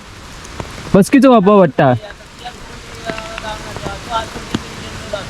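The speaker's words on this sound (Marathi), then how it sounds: "तेवढंसं मोठं पाऊस कंटिन्युअसली आहे सकाळपासून" Heavy monsoon rain pours down in the Konkan, a dense, steady hiss that continues after a man's short burst of speech near the start.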